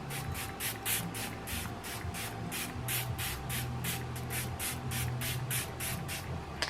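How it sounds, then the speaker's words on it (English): A bottle of Physicians Formula Essence of Healthy setting spray is pumped in a rapid, even run of short hissing bursts, about a dozen and a half, heard close and alone. "I'm even going to use my Physicians Formula, the Essence of Healthy setting spray"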